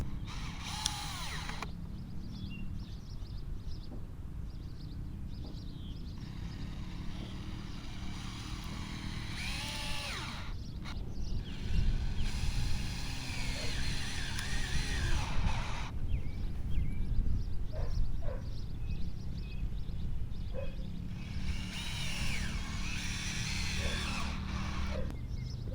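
A power drill driving screws into used wooden boards, repeated bursts of high whirring with gaps between, mixed with ratcheting and clunks of handling close by.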